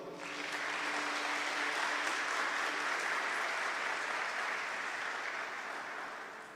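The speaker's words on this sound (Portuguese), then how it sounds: "Pode aplaudir." Sustained applause from an audience at a Catholic talk, rising quickly and holding at a steady, moderately loud level before slowly tapering off, with no speech over it.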